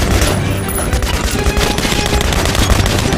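A minigun spins through continuous heavy fire in the video game Metro: Last Night, a dense, unbroken roar of rapid shots that stays loud and close for the whole stretch.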